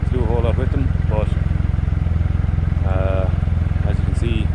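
A Triumph Rocket III motorcycle engine idles steadily and evenly while its throttles are being balanced, a constant close rumble with someone talking over it at intervals.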